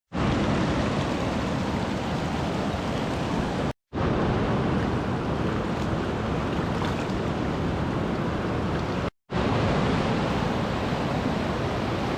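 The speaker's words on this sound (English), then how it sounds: "This river is so extreme and the currents are so strong" A strong river current rushes through a wild Scottish landscape, a constant loud broadband roar of water close by, cut off briefly twice.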